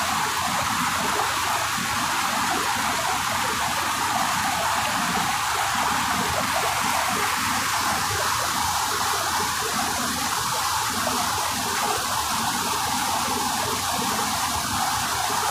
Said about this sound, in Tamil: கோத்தகிரி மலையில் காற்றாற்று வெள்ளம் போல் ஒரு ஆறு.